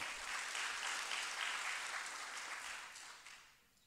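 An audience at a leadership day education event breaks into steady, sustained applause, many hands clapping in a dense wash that gradually fades toward the end.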